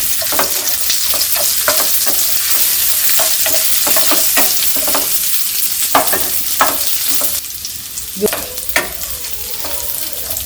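Slit green chillies fry with chopped onions in a hot pan, a steady loud sizzle broken by repeated scraping stirs of a spoon against the metal.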